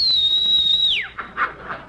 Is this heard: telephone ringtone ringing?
no